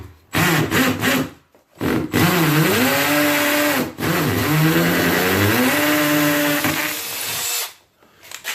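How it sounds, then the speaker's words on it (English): A power drill with its clutch engaged bores through material, its motor whining in several long bursts with pitch sagging and rising under load, separated by brief pauses. "You can see that drill goes right through there"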